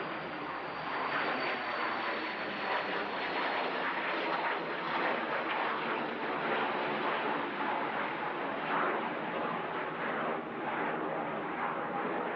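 An aircraft taking off at Manchester Airport on a windy day, a broad, loud, sustained jet roar that stays steady and powerful throughout, heard at a distance with no pauses.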